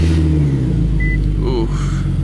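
An Infiniti Q50 engine cold-starts with a steady, loud low rumble and a slight rev that holds for the whole moment, close by with no voices.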